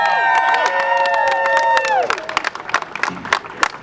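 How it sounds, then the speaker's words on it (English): A sustained tone bends downward and cuts off, then a crowd at the Simpsons Springfield grand opening at Universal Studios cheers with scattered claps and shouts, close and lively. "Give them a big round of applause."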